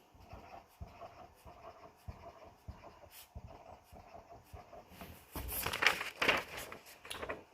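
A marker or pen scratching quick tens onto paper during a math lesson, with short repeated strokes close to the mic and louder rustling and scraping near the end.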